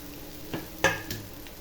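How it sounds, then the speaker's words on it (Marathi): Leftover rice with egg being stirred and fried in a pan: a soft sizzle beneath a few distinct spatula scrapes, one sharp and louder in the middle, close by with no voices. "आणि ह्याला चांगला असं हलवून घेते भात चांगला परतून घ्यायचा"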